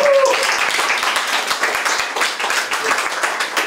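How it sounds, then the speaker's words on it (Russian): Wedding guests applaud in a steady, dense wash of clapping that carries on throughout, close and fairly loud, with no voices standing out above it. "Под бурнейшие аплодисменты гостей вручите."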